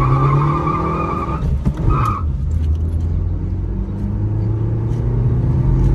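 A Maruti Suzuki Baleno accelerates hard from 0 to 100, its engine note rising loud and close with a brief dip at a gear change before climbing again, heard from inside the car.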